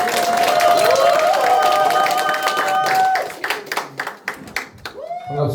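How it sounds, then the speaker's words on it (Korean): At an inauguration ceremony, an audience breaks into clapping under a swelling musical tone, the applause continuing in bursts, then a voice begins speaking at the end. "여러분이 큰 박수로 모시겠습니다"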